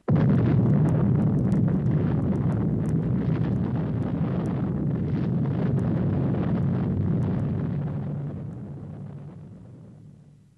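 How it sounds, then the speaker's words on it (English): A wartime test detonation of 100 tons of high explosives, the largest deliberate chemical blast, rolls out as a long, loud, rumbling roar that stays heavy for several seconds before slowly fading away, with no voices. "This is the largest chemical explosion ever deliberately detonated."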